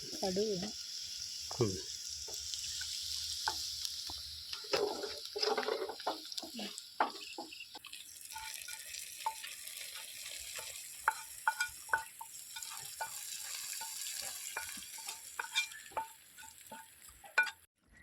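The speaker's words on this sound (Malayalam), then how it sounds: "കപ്പ തിളച്ച് വരുന്നുണ്ട്." A pot of tapioca boils with a steady, close bubbling hiss throughout, scattered light clinks and stirring knocks, and a brief distant call near the start.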